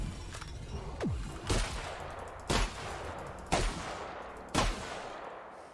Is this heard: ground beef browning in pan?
no